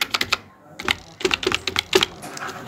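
An Aadhaar card number is typed on a computer keyboard as a close series of crisp key taps in uneven clusters, with no talk over it.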